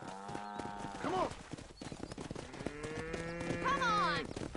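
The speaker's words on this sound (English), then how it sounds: "We need to get these cows out of the pen and onto the road" Cattle mooing loudly and close, with clopping hooves and a horse whinny, from a cattle drive in Red Dead Redemption; someone talks over the herd.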